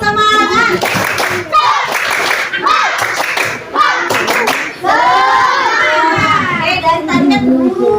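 Children in an Indonesian classroom perform a rhythmic clapping cheer, loud and close, with bursts of hand claps mixed with their chanting voices throughout.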